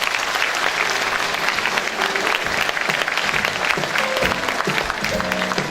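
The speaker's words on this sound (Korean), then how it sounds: "여러분 큰 박수로 환영해 주시기 바랍니다" Loud, steady audience applause fills a governor's inauguration ceremony as the governor's spouse steps onto the stage, the clapping crowd sustained throughout with faint voices beneath it.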